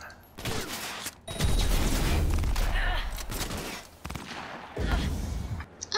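Gunfire from a flame-setting gun in the Cyberpunk 2077 game: a burst of loud shots with booming low-end impacts, several separate volleys with short gaps between them, close and dense, with no talk over them.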